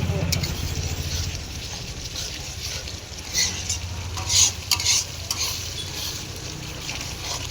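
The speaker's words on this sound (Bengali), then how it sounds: "মশলাটাকে ভালো করে কষতে হবে" A garlicky spice paste with Kashmiri chili powder frying in oil while being stirred, a continuous close sizzle broken by scraping spatula strokes and a few sharper clatters against the pan.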